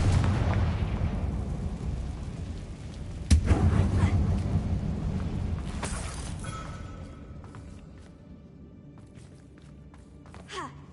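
Bombarda and Confringo blast spells from Hogwarts Legacy, set in an abandoned mine, burst as a sharp booming impact around a third of the way in, then a second crack, over a rumbling, echoing game soundscape that fades toward the end.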